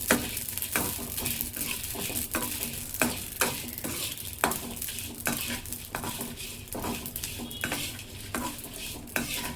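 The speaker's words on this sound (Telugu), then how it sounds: "తర్వాత ఎండుమిర్చి. ఆయిల్ వేయకండి, మామూలుగా పొడిగా వేసుకోవాలి." Dried red chillies dry-roasting in a pan without oil, with a steady scraping stir and a faint sizzle, broken by regular metallic clinks of a utensil against the pan, close and moderately quiet.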